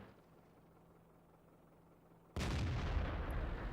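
A sudden loud tank cannon blast in World of Tanks, fired at an enemy Grille artillery piece, booming in after a quiet low engine hum and ringing out with a long rumbling tail.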